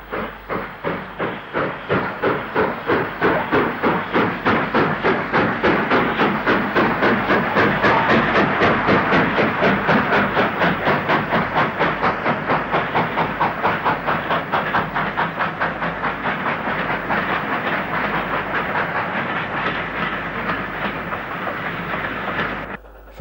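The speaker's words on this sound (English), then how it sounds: "44727 of Carlisle Kingmore departs on a semi-fast to Crewe" Steam locomotive 44727 departing Wigan North Western station on a semi-fast train to Crewe, loud rhythmic exhaust beats steadily quickening over continuous hiss and rumble, sustained and near throughout before easing slightly at the end.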